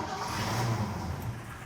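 A 1965 Chevy truck's 283 V8 rumbles steadily at close range, a dense low engine sound that holds evenly throughout without a clear cranking burst.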